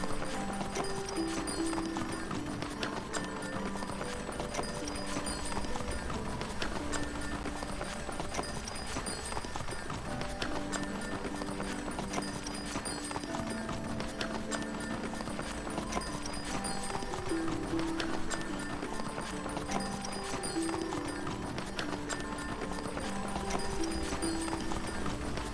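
Rhythmic clip-clop of horse hooves running through a forest obstacle course in a PC video game, steady and continuous under a layer of game music.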